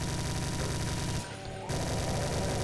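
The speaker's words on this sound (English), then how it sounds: "We've actually managed to save up a few bullets for the old chain guns." A chain gun fires in rapid continuous bursts in the video game Brutal Doom, loud dense rattling gunfire with a brief pause before the stream resumes.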